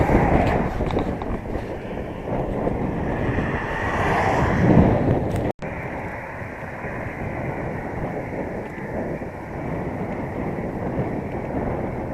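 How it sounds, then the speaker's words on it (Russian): Wind howling across an open landscape of birch and pine forest, a steady roaring rush buffeting the microphone, with a brief break midway. "Теперь здесь только ветер воет."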